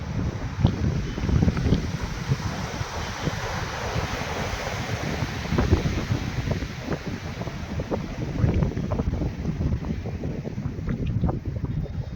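Sea waves at Chowpatty beach in Porbandar at sunset make a steady, loud wash of surf, blended with constant wind rumble against the microphone and no voices.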